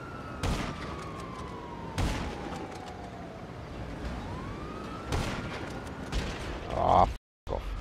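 Gunfire in an online shooter video game, including an explosive round; sharp repeated shots with a descending siren-like tone, ending in a brief cut to silence.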